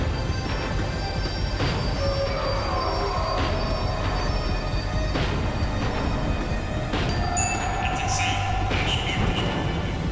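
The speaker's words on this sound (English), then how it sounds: "The tram was slowing down" A tram in the game Max Payne 3 rolls to a slow stop, a steady rumble of rail noise with faint wheel squeals and clatter throughout, joined by muffled voices in the background.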